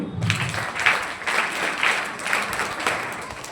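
An audience at an annual exam results ceremony claps in a sustained, moderately loud round of applause for a student placed second, the clapping dense and even from start to finish.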